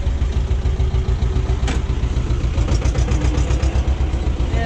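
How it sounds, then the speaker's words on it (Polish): A T-25 tractor engine pulls the machine out of an unploughed field where alder trees are being felled, giving a steady, loud, close diesel rumble with a brief metallic clank partway through. "zobaczmy jeszcze, jak ciągnik sobie poradzi z wyjechaniem tutaj"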